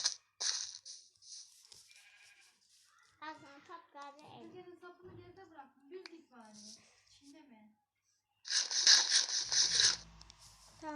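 Sheep bleat in a survival video game. The cries are loudest near the end, and children chatter excitedly over the game sounds.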